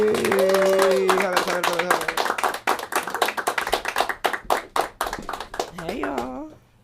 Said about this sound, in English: You guys will clap it up.